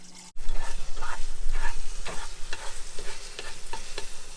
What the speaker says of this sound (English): We started making the mushroom pasta and the mushrooms are there boiling